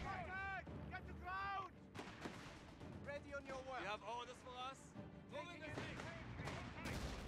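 Soldiers firing anti-tank rifles in a real-time strategy game, several distinct shots scattered through a busy battle soundscape, with excited voices talking over them throughout.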